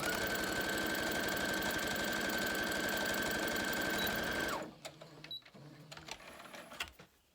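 A sewing machine stitches fabric pieces together in a steady, rapid mechanical chatter that stops abruptly partway through, followed by softer handling clicks and rustles.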